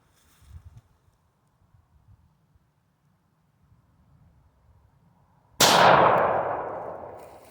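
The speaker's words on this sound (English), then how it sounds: "Give me one more shot at that paint can." A single loud, sharp report from a Hi Point .45 ACP pistol, followed by a long ringing decay, breaks a quiet stretch of faint outdoor rustling as a round is fired at a paint can from about 15 feet away.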